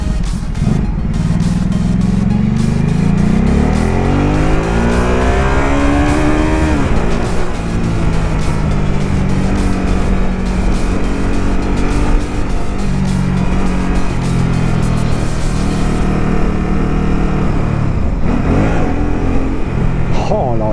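A Ducati Supersport 950 sport motorcycle, a 2019 model, roars loudly and close, its engine revving up and down through sweeping pitch rises and falls, with someone talking over it.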